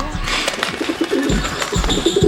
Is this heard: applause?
no